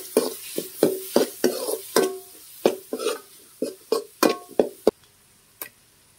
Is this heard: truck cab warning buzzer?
no